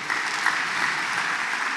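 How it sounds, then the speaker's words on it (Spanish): A church congregation at a Christmas service applauds, a dense, even wash of many hands clapping at moderate volume with no voices on top. "Damos un aplauso al Señor que nació en Belén"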